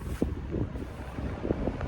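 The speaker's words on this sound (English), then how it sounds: "Nice and windy" Steady wind buffets the microphone outdoors next to an Abarth car, a low rumbling roar with a few brief gusting thumps and no talking.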